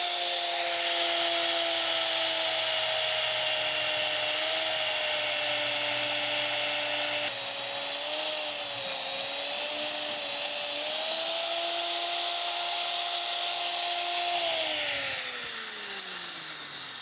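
An electric drill mounted on an old mag-drill base runs with a steady high whine for a long stretch, wavering slightly under load before winding down at the end, close and loud.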